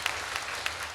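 Applause from an audience at a Pongal festival special stage event, steady dense clapping with a few sharper claps standing out, continuous throughout the short moment.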